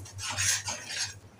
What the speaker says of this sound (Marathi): परत एकदा परतून घेऊया.